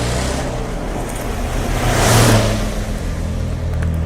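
A car speeds away along a road, its engine a loud, steady roar that swells to a peak midway and then holds, with no voices present.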